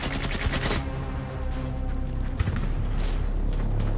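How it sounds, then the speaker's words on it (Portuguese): Gunfire and explosions around a village in wartime, a dense, continuous roar of shots and blasts with a sharp crack midway, loud and unbroken throughout. "Com uma onda de tiros e explosões ao redor do vilarejo"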